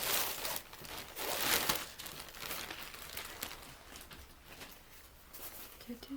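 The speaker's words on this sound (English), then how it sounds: "Open up the baggie." A plastic baggie is opened and crinkled in bursts of close crackling and rustling, loudest at the start and softening afterwards.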